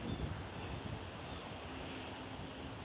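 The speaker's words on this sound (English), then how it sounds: "This is the wind." Faint, steady wind blowing near a river with stones in the water, a broad continuous rushing hiss with no voices.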